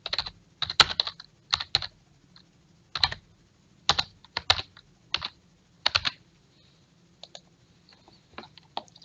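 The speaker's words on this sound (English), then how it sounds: "we type in the title that we need" Fingers type on a computer keyboard in short bursts of crisp clicking keystrokes separated by brief pauses, close and clear with no talking.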